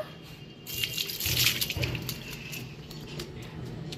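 Water is poured slowly over a small Gopal idol in a household bathing ritual, producing a close, continuous splashing flow that swells briefly and then settles into a softer trickle.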